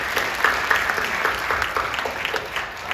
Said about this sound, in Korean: 우리 박수로 격려해 주시죠